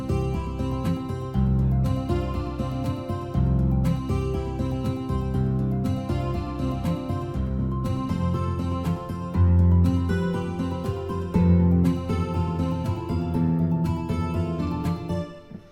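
A HALion 6 FlexPhraser patch plays layered random synth sounds, a dense, busy pattern of rhythmic tones and notes with steady pulses running throughout, loud with no speech.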